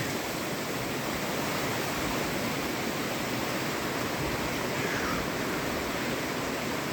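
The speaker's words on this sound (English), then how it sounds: "This is just flooding everywhere." Steady, loud rushing floodwater roars over a hiking trail on the Appalachian Trail without pause, a broad continuous wash like a swollen stream pouring close by.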